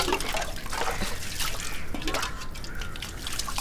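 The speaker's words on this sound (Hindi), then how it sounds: "पीठ पे पानी डाल।" Water splashes and trickles over a person's back while they are being bathed, a steady close-up pouring and dripping with irregular splashes throughout.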